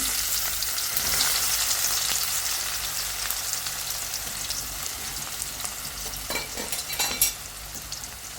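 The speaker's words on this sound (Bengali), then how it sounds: "তো এই তো আমি হলো তেলটা বসাই দিচ্ছি আর এখানে হলো পেঁয়াজটা দিয়ে দিলাম" Onion fries in hot oil in a pan, a dense steady sizzle with occasional stirring scrapes and soft crackles near the end, close and alone without voices.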